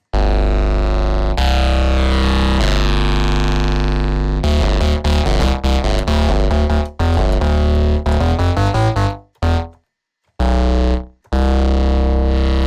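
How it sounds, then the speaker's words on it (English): A bass line runs through the BassRift plugin's crush and trash distortion, giving loud, gritty, buzzing sustained notes that change pitch in steps, with a few abrupt cuts to silence near the end. "And we have a crush. Trash."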